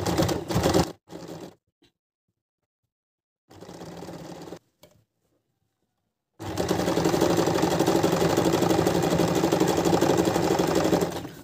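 A sewing machine stitching stretchy old legging fabric, first in a few short bursts separated by silence, then running steadily and loudly for several seconds, close by.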